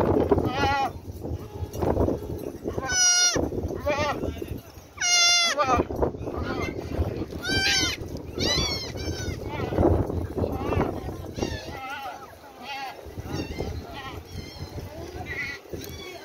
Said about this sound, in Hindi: अच्छा और ये बकरी? ये भी बरी है।